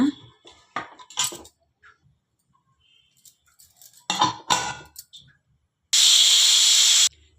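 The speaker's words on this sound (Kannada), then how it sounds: "ಈಗ ಕುಕ್ಕರ್ ಮುಚ್ಚಿ ಎರಡು ವಿಸಿಲ್ ಬರ್ಸೋಣ" Sharp clatters and clinks of kitchen utensils come in scattered bursts, then a loud, steady hiss of steam escaping from a pressure cooker runs for about a second.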